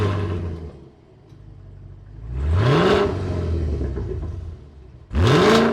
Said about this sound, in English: You have this 4 quad tip exhaust. And talking about that exhaust, let's take a listen right now.